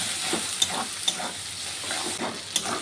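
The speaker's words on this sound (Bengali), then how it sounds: "এখন সব কিছুকে একটু ভেজে নেব।" Fish oil fries in a pan with a pinch of salt and turmeric, giving a steady low sizzle broken by occasional light clinks and scrapes of stirring.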